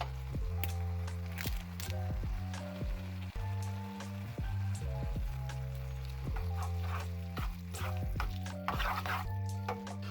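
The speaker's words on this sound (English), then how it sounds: "just giving it an extra little fry in a slight amount of liquid as recommended" Buldak 2x Spicy ramen noodles with sauce and flakes fry in a pan with a little liquid, giving a continuous crackling sizzle with scraping stir strokes over a steady humming tone.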